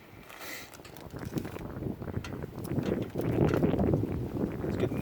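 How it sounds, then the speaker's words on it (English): Wind gusting outdoors near a house, a steady rough rumble of wind buffeting the microphone that grows stronger and more turbulent toward the end. "It's getting windy here."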